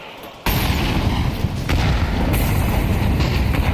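Rifle fire in the Counter-Strike 2 video game during an esports playoff match on the Ancient map: a sudden loud onset of dense, booming shots and blasts that continues steadily to the end, with no voices.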